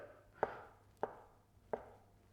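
A knife slices through seaweed-wrapped savoury food on a board, three crisp chopping cuts spaced about half a second apart, close and clear with no talking.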